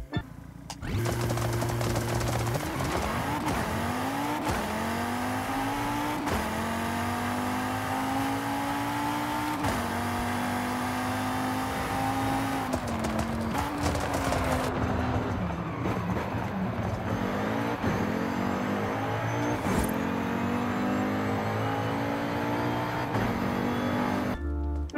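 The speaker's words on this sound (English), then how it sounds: "the thing about the RS3 is it has an inline 5 turbo engine" An Audi RS3 inline five-cylinder turbo engine roars steadily in Forza Horizon 5, revving up and down through gear changes with a loud, continuous growl and no voices.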